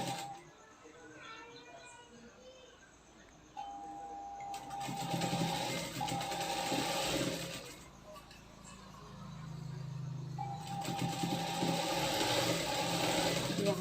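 A sewing machine stitching a katori blouse runs in bursts of steady mechanical whirring, with pauses between runs and a low hum beneath, over a quiet room background.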